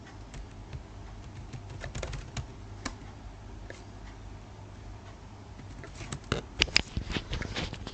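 Computer keyboard typing in accounting software, with scattered key clicks building to a denser burst of taps near the end, heard close and moderately quiet against a low background hum.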